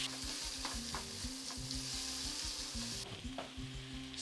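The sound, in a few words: diced onions sautéing in a pan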